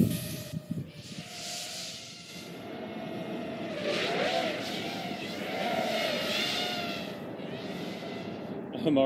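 Racing drone quadcopters flying, a sustained high-pitched whining hiss with rising and falling motor tones as they speed past, loud and continuous with no talking.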